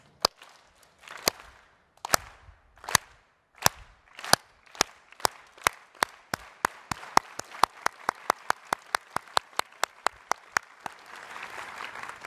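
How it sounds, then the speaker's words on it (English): A convocation audience doing a union clap: sharp, unified claps begin widely spaced and slow, then steadily speed up into a rapid rhythm before breaking into loose scattered applause. "to do a union clap, so I want all of you to join me. The way it works is you start out slow and you get faster"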